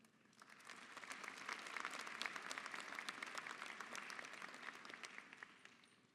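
Sustained applause from a graduation ceremony crowd, steady dense clapping that swells and holds for several seconds before tapering, heard from a distance in a large hall.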